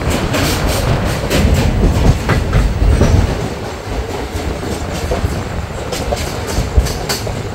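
Kolkata Special passenger train on the Digha to Dakhineswar run, heard from inside a second-class coach: a loud continuous rumble with rhythmic clickety-clack of wheels over rail joints throughout.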